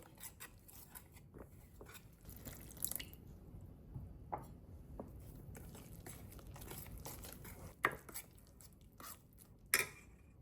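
Thick batter for cauliflower bajji is stirred in a bowl, producing quiet wet squelches and scraping clicks in an irregular rhythm, with no talking.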